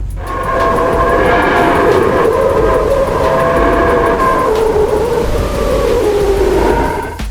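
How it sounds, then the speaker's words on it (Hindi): Whistler mode waves recorded by Parker Solar Probe near the Sun, rendered as sound: a loud steady hiss with layered whistling tones that slowly bend and waver, continuous and without speech. "जब ये प्रोब सूरज के थोड़ा और करीब गया तो उसे ऐसी आवाज सुनाई दी मानो कोई सीटी बजा रहा हो। इसीलिए व्हिस्लर मोड वेव्स नाम दिया गया था।"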